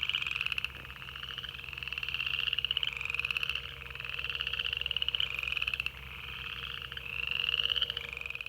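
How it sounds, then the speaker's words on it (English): Upland chorus frogs call from pools a short way off, a steady overlapping chorus of rising, creaky trills repeating every second or so with no voices over it. "There's upland chorus frogs calling in the background up in the bigger pools."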